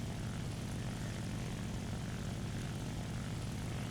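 Propeller aircraft engines in a video game air battle, a P-39 and a B-25 among them, make a constant low droning roar that stays steady and dense, with no voices.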